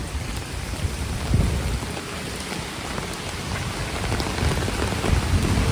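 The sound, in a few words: heavy rain falling in Nainital street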